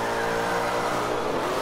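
A Nissan 370Z engine in Forza 5 revs hard and continuously, a loud high-pitched whine holding steady with slight rises and dips throughout.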